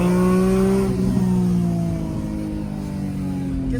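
A BMW E46 M3 shooting brake engine revs hard and close, its steady growl sliding downward in pitch as the revs fall and settle.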